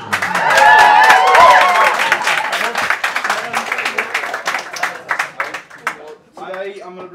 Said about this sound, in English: please round of applause from Ben from Maya